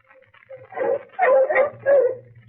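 Bloodhounds whine and yip in a radio drama, a few short overlapping dog cries rising in the middle of the clip over a low steady hum, fairly close and moderately loud.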